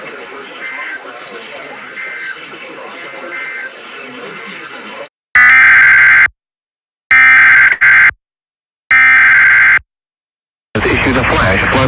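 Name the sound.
National Weather Service public warning alarm tone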